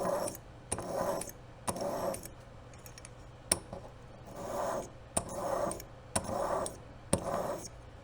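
A file or sharpener rasps against a serrated Magnus broadhead blade held in a sharpening jig, making a series of short strokes in an even rhythm. Sharp clicks fall between the strokes, and the whole sound is quiet and close.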